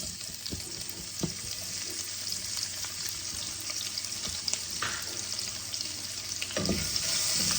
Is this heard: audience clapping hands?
no